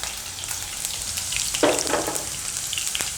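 Chilies and spices hit hot oil in a pan for a paneer coconut cream curry, giving a steady, close crackling sizzle that swells into a louder burst of spitting midway before settling back.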